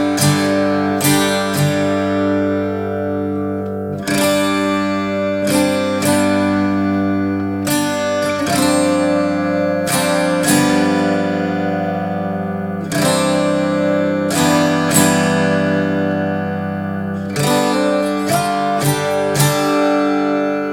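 Electric guitar playing a song's riff, repeated chord strikes with ringing sustain and short pauses between phrases, loud and close with no talking over it.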